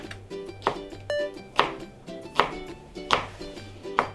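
A knife finely chops shiitake mushroom stems on a cutting board, about six crisp, evenly spaced strikes close by, with soft tonal background music underneath.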